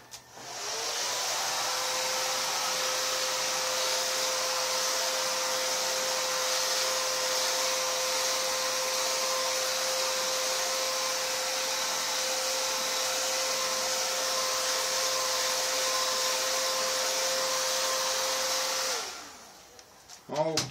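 A hair dryer runs steadily and close for about eighteen seconds, drying a second coat of paint on an RC car body, then cuts off near the end.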